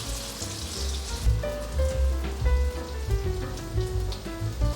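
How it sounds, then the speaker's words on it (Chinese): A vegan cabbage and vegetable pancake sizzles in hot oil in a pan after being flipped, with a steady, close crackling hiss and no voices. "翻完面，先让它煎一下。"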